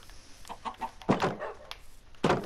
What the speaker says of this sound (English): Oh, one of the chickens got out.